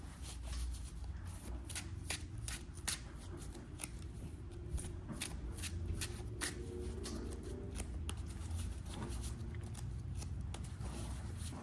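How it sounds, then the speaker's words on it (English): Yu-Gi-Oh card deck being shuffled by hand, a steady run of crisp riffles and soft rapid card flutters lasting throughout, close and fairly quiet with no talking. "Just gonna go ahead and shuffle the deck"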